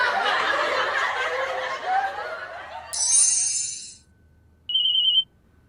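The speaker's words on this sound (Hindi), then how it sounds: "अरे चिड्डो का फोन।" Phone ringtone bursting in twice with a bright electronic tone, a longer ring and then a short second one, clear and close after fading laughter and chatter.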